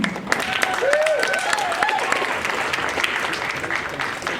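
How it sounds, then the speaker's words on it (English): Audience at a Love Pro Wrestling x Clandestine Wrestling Society show breaks into sustained applause, a dense, even wash of clapping with a few whistles and shouts mixed in, filling the hall for several seconds. "Round of applause, please."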